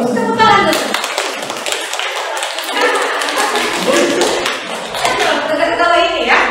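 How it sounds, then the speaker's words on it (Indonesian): Applause in a university classroom for the first student group, a steady wash of many hands clapping throughout with voices and chatter mixed in. "Tepuk tangan tuh."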